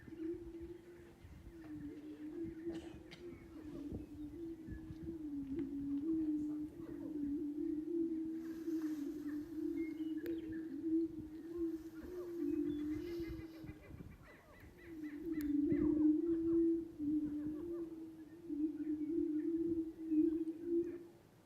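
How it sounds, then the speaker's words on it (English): Greater prairie chickens booming on a lek, a low hooting drone rising and falling steadily with occasional swells, several birds calling together from moderate distance with faint chatter of other birds above. "greater prairie chickens have that orange air sac, and then they have a boom, boom vocalization"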